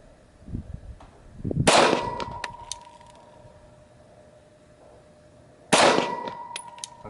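Two sharp Glock 40 Gen 4 MOS pistol shots ring out several seconds apart at an outdoor shooting session, each a loud crack with a short ringing tail, and faint ambient noise fills the gaps between them.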